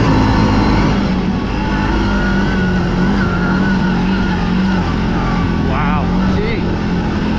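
A 2024 CFMoto CForce 800 XC ATV engine drones loudly and steadily while being ridden off-road, with constant wind and engine noise up close and someone talking over it.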